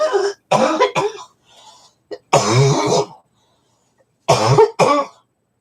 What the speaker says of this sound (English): One of those coughs that just catches you